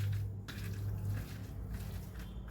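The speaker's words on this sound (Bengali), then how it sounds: "এইগুলো দিয়ে এবার ভালো করে সব একসাথে মেখে নেব।" Momo filling of green chilli and garlic leaves being mixed by hand, soft wet squishing and patting that comes and goes in slow, close handfuls, quiet and without speech.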